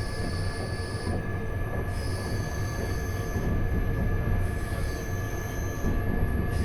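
The EuroCity Danubius train pulls out of Vienna in a steady rolling rumble heard from on board, with faint high wheel squeals and tones drifting over the low continuous noise.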